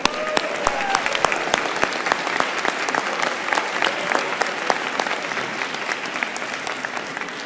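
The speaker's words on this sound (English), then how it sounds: "And how about a round of applause for the faculty on stage?" Sustained applause from a graduation ceremony audience honoring the faculty on stage, a dense, steady wash of many hands clapping throughout with a few crowd murmurs mixed in.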